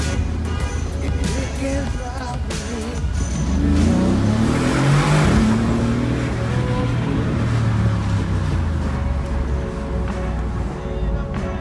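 A Mercedes G63 AMG with side-exit exhaust revs loudly and close by, its deep engine roar swelling mid-clip and holding, with a voice briefly audible over it.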